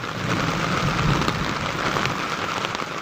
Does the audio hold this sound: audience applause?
no